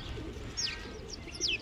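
Sparrows at a feeder, scattered around seeds, give two short, bright chirps at close range, with a faint low murmur underneath and no talking.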